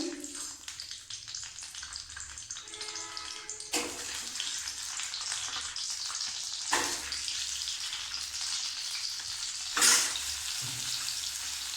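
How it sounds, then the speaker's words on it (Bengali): Boiled duck eggs sizzle in hot mustard oil and ghee, a steady crackling fry close to the pan, broken by a few sharper bursts of spattering. "লাল করে ভেজে নেব আমার ডিম ভাজা হয়ে গেছে"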